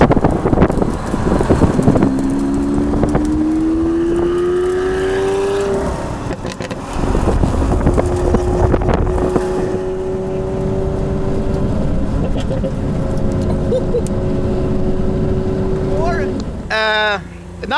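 A 575 hp BMW M5 F10 Competition races a 740 hp Lamborghini Aventador S, engines rising in pitch as they accelerate together amid loud wind and road rush, with people talking over the noise.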